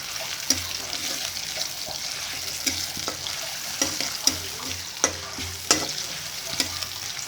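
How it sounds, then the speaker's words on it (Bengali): Onion frying in a pan for lentil fritters gives a steady sizzle punctuated by repeated sharp taps and scrapes of a spatula stirring against the pan. "প্রথমে আস্তে একটা পেঁয়াজ দিয়ে দিব।"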